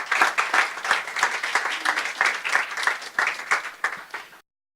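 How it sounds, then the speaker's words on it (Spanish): Applause from a church congregation during a worship service, a lively burst of many hands clapping in uneven rhythm that ends abruptly after about four seconds. "Denle el aplauso al Señor"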